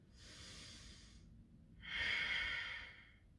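Two long, deep breaths during a yoga stretch, each an airy exhale that swells and fades, the second louder and closer than the first, over a quiet room.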